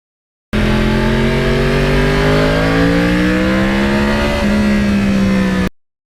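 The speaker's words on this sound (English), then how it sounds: "that sound on a crossplane is totally different than like an FZR is or any inline four-cylinder bike" A 2009 Yamaha R1 crossplane inline four-cylinder motorcycle engine revving hard and close, its pitch climbing steadily, then settling into a high sustained roar before cutting off abruptly.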